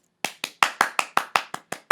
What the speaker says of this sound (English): Round of applause for drip